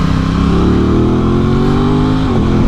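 A Ducati Hypermotard 950SP motorcycle engine on the motorway, heard as a loud, continuous engine drone with steady pitch that rises slightly and then dips near the end, mixed with strong wind rush.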